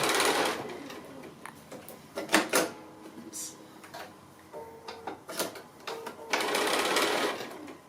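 A sewing machine chain pieces quilt fabric in bursts of rapid stitching, with mechanical clicks and pauses between runs as pieces are fed through, close by and with no speech.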